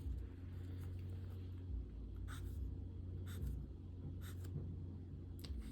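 Pen writing by hand on paper while drawing orbital diagrams, short scratchy strokes in several separate bursts, heard close over a constant low rumble in a quiet room.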